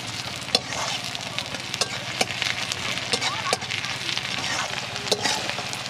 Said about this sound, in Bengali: ভাজতে ভাজতে আমি ক্যাপসিকাম দিয়ে দিচ্ছি যাতে পেঁয়াজগুলোর সাথে ভালোভাবে ভাজা হয়ে যায়